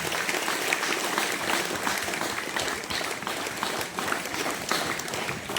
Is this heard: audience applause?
yes